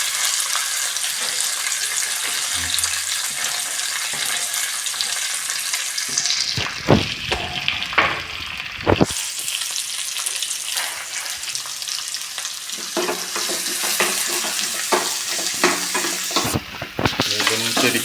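Vegetables for a Malayalam-style evening snack fry and sizzle in a pan while being stirred, a steady close hiss with scraping stir strokes that grow louder in bursts midway and near the end, no talk.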